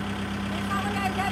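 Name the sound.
tractor engine idling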